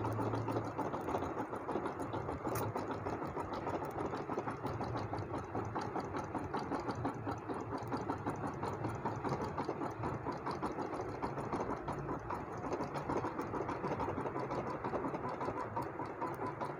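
A Janome 8200 embroidery machine stitches a flower design, a fast steady mechanical whirr and needle clatter running continuously at moderate level with no talk.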